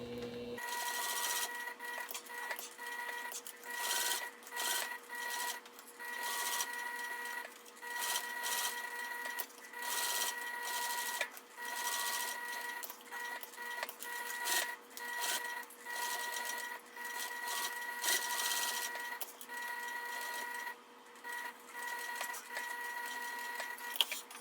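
A machine stitches around a leather wallet, running in a steady, fast mechanical rhythm with short pauses and restarts, loud and close throughout.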